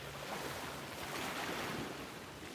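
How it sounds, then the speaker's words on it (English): Ocean waves wash steadily onto a shore in a continuous broadband roar with wind buffeting the microphone, fairly close and alone with no voices. "Yes, I love the sound of the waves too."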